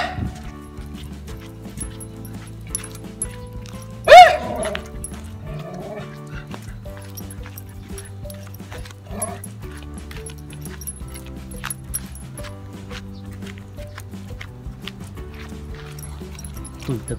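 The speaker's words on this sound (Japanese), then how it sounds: "あ、鳴いてます。" A dog barks in a short sharp burst near the start, loud against steady low background noise and hoofbeat-like clopping, with a few fainter yips later; no one speaks.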